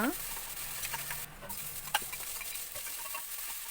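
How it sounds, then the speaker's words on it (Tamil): Tomatoes sauté in a pan for a beans and mutton kurma, giving a soft continuous sizzle with scattered stirring scrapes and small clicks throughout. "இப்போ நம்ம எடுத்து வச்சுருக்க தக்காளி ஆட் பண்ணிவிட்டு சோட்டே பண்ணிக்கலாம்."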